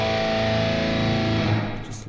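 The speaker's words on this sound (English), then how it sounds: "turn off the delay so we could hear what the reverb sounds like" A sustained, distorted electric guitar chord through the AmpRoots amp simulator with delay off, ringing out with a wash of reverb, then trailing off at the end.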